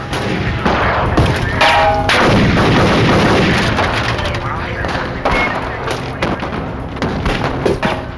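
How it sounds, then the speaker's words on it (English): Loud, dense gunfire from a dramatized FBI shootout, with shots at point-blank range and heavy rifle fire echoing in rapid bursts almost continuously, mixed with thuds and voices underneath. "Agent McNeill arrived seconds later, firing at point-blank range."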